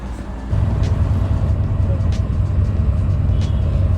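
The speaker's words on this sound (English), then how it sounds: "we've just got the bus into central Barcelona" Bus riding into central Barcelona from El Prat Airport, with a steady loud low engine and road rumble that rises after a brief quieter start, plus a few faint hissing bursts from the brakes.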